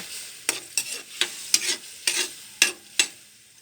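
Vegetables sautéing in a hot pan for a home-cooked everyday dish, with sizzling oil and a series of regular scraping stirs of a spatula, close and clear, without any talk.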